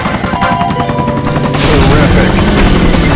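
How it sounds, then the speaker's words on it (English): A news helicopter in the video game On the Run roars overhead with loud, dense rotor and engine noise, mixed with bursts of game action and a voice talking over it. "We are bringing you the action live from our helicopter."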